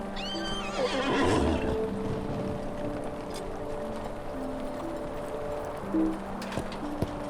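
A horse in the LOTRO video game gives a loud whinny up front, followed by a few clip-clops of hooves over a steady low game ambience, with another short snort or neigh near the end.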